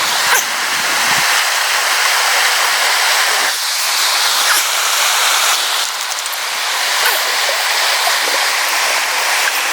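A river flows steadily beside a hiking camp on a high trail through a narrows, giving a continuous, full rushing wash of water that holds at an even level throughout.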